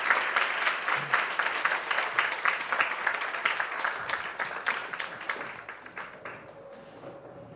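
An audience at a school event in a hall breaks into loud, sustained applause with many hands clapping, then gradually fades toward the end.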